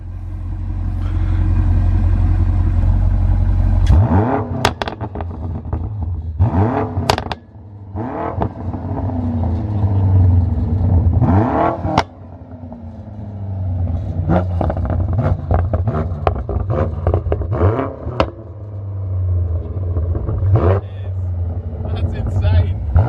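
A tuned 2019 BMW M5 Competition with an AC Schnitzer sport exhaust, flaps closed, idles with a deep steady low rumble close by, interrupted by a few blips and shifts in engine note while people talk over it.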